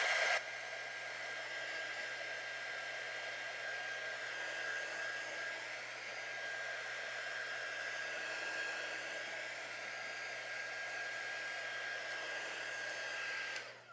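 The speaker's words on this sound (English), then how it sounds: "So I'm going to hit it real quick with my quick dry tool." A quick-dry tool, a hair dryer, blows continuously at close range with a steady whirring hiss and a constant high whine, running alone from start to finish.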